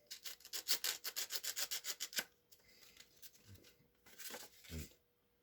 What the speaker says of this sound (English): it's 150 grit sandpaper, and you can just sand it, sand the outside of it